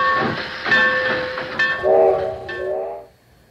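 A model train rolls along with clattering wheels while a tooting whistle sounds in several short, pitched blasts.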